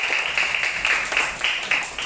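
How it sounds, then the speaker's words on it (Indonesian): A third-grade class of schoolchildren claps together in a classroom, a dense, steady patter of many small hands with rhythmic surges, close and fairly loud throughout. "Tepuk tangan buat kita semua dulu."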